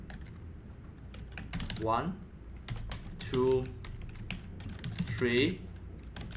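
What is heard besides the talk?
typing on a computer keyboard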